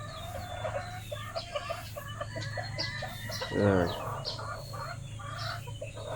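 Backyard chickens cluck in short repeated bursts nearby, with a brief louder squawk partway through and a single short spoken word under a steady low hum.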